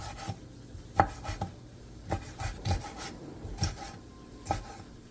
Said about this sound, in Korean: 오징어 2마리의 몸통을 길게 반으로 가른 뒤 먹기 좋은 크기로 취향에 맞게